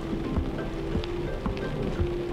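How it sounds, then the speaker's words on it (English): Steady rainfall hisses throughout, an even wash of sound with faint, irregular patters and drips. "It's really raining!"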